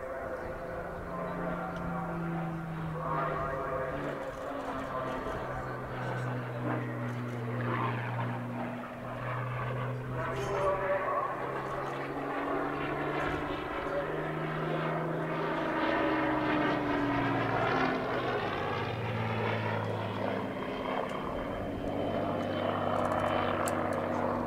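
A Spitfire-era propeller aircraft rolls through a victory roll at the Southport airshow, its engine note rising and falling in pitch as it sweeps past, fairly close and continuous, with a voice talking over it.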